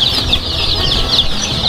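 Dominant CZ F1 chickens, a free-range meat-type breed, cluck steadily in a dense flock, with overlapping calls close by and no talking.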